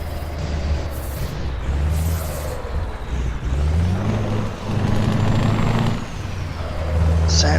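A heavy truck engine in Euro Truck Simulator 2 drones loud and deep, rising and falling through gear changes over several seconds, with hisses of air release between pulls.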